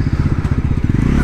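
Bajaj Pulsar NS400Z motorcycle braking hard from over 90 km/h, a steady loud low engine and road rumble with rapid pulsing throb and clatter throughout, close to the microphone.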